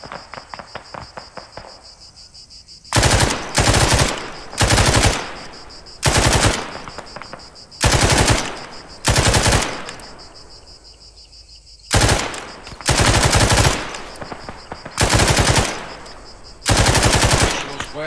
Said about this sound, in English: Gunshots from the west